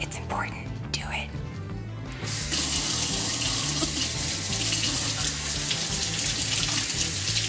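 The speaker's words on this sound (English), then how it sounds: "You guys, wash your hands, okay? Seriously, wash your hands." Hands being washed under a running kitchen tap, a loud steady rush of water into the sink, with a voice whispering and murmuring over it near the start.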